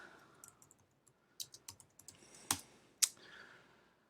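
Typing on a computer keyboard with a mouse click: a quiet, uneven run of close key taps, ending in two sharper, louder clicks.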